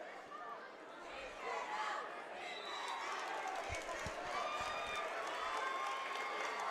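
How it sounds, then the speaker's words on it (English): A gym crowd at a varsity boys wrestling dual meet keeps up a steady roar of chatter, shouting and scattered clapping, with a few dull thumps from the mat and voices layered throughout. "We're trying to get the names over the crowd noise"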